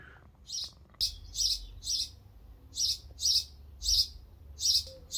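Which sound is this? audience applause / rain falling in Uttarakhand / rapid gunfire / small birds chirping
small birds chirping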